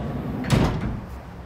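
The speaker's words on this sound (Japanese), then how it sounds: "こちらの車なんですが、小窓付きの両側スライドドアになります。" A car's dual-side sliding door with a small window rolls and thuds shut in one short, close, fairly loud movement that fades within a second.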